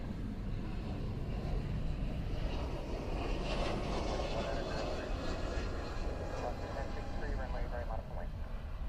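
Aircraft departing on the runway at Honolulu airport, a steady broad engine roar sustained throughout, with a voice talking over it.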